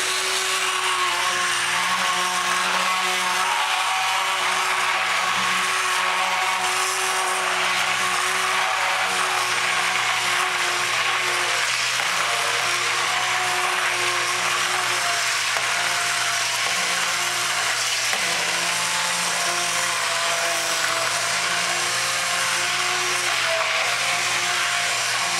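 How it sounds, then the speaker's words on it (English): An immersion blender purees butternut squash soup in a jar, giving a steady, close motor whir with a sustained hum and faint shifting grinding as the blade works, continuous for the whole stretch, with no talking. "We're going to use this immersion blender here for the jar."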